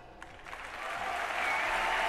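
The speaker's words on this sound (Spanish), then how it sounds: "ya ahora toca un aplauso" Audience applause at the Madrid Economic Forum following a speech, a steady crowd clapping that swells and grows louder over a couple of seconds, heard alone without talk.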